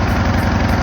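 Craftsman LTS 2000 riding lawnmower with a 19.5 horsepower engine running steadily at idle, a close, loud, continuous low rumble with an even pulsing throb and no voices.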